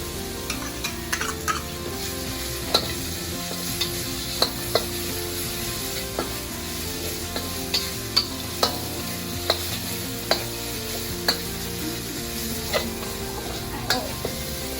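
Filling ingredients for sago dumplings with pork are stir-fried in a pan, with a steady sizzle and a regular run of sharp spatula taps and scrapes against the pan across the whole stretch, close and without talking.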